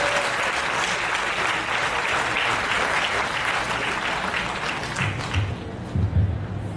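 An audience at a university graduation recognition rites ceremony gives sustained, loud applause, a thick continuous roar of clapping that thins slightly toward the end as a few closer claps stand out.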